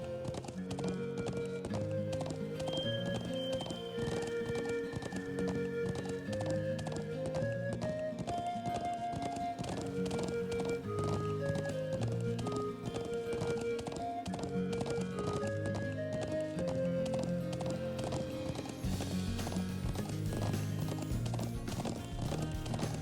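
Steady clip-clop of a horse's hooves trotting at an even rhythm in the video game The Legend of Heroes: Trails of Cold Steel, under a looping musical melody, continuing throughout.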